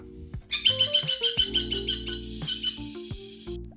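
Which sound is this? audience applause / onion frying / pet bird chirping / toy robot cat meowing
pet bird chirping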